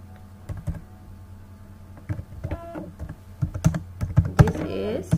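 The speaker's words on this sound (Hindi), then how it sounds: "कुछ टेक्स्ट लिखती हूँ" Someone types text on a computer keyboard in scattered clicks and short bursts of keystrokes that speed up toward the end, close and clear over a low electrical hum.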